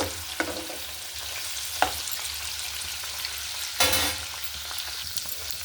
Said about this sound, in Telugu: మనం ఇలా వేయించుకోవడం వల్ల ఏంటంటే అండి కర్రీలో విరగకుండా స్టిఫ్గా ఉంటాయి